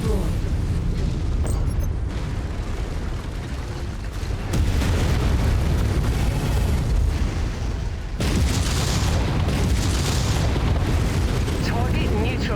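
Targets blowing up in the mech combat game MechWarrior 5, heavy booming explosions and rumbling blasts playing continuously and loudly, with a sharp new burst partway through.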